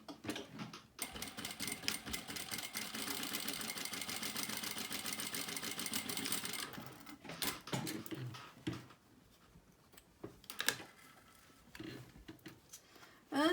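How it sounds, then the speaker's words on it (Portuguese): A sewing machine runs a steady, fast stitching rhythm while sewing a diagonal seam, loud and close for about six seconds, then stops, followed by scattered handling clicks and brief shorter bursts of stitching. "Vou lá na máquina e vou costurar essa diagonal."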